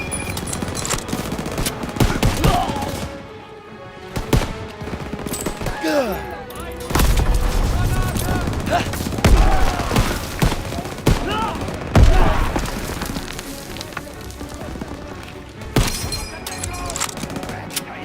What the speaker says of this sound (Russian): Тут расстреливают!